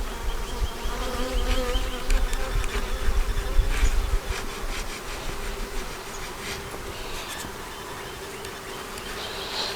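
A swarm of honeybees buzzing steadily inside a hive: a dense, continuous hum of many wings, close and fairly loud, with a low rumble under it in the first few seconds and no talking.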